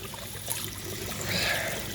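Water trickles through a sand-grade charcoal filter in an aquaponics tank for tilapia, a soft, steady dribble with a faint splashy wash throughout and no voices.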